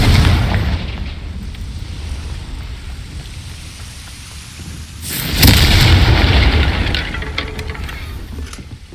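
A Confringo fire spell in Hogwarts Legacy sets off a deep rumbling blast that fades out, then a second loud burst erupts and slowly dies away.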